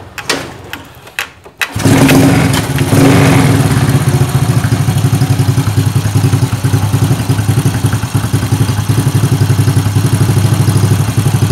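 A Honda Dream motorcycle engine is kicked over and catches after a carburetor air screw adjustment, then settles into a loud, steady, rhythmic idle close by.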